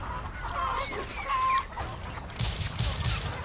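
Chickens in a video game cluck in short repeated calls, with a few softer clucks and rustling game sounds mixed in around them.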